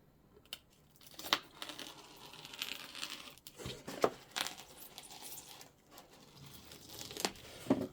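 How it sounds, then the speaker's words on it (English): A razor blade cutting through a lid for a 1/12 scale miniature dive bar, with scattered scraping, tearing and crinkling sounds, several sharp clicks and rustles at irregular intervals, close and fairly quiet. "Let's just cut it with the razor."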